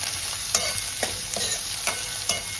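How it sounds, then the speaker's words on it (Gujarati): Capsicum and onion for spicy desi pasta fry on a full-high gas flame, a close, even sizzle punctuated by several sharp spatula stirs and scrapes against the pan at a steady rhythm. "હવે હું કેપ્સિકમ અને ડુંગળી નાખી દઈશ. હું ફૂલ ગેસ પર અત્યારે ચડી રહી છું."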